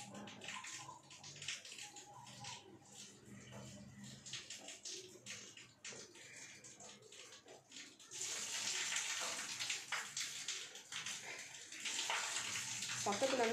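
Steady water pouring and splashing while making Kerala-style fulgar soda, growing louder and fuller in the second half, with faint indistinct voices and clatter early on.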